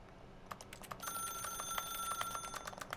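A telephone rings in the video game The Stanley Parable, a sustained electronic tone running through most of the moment alongside rapid clicking keyboard taps.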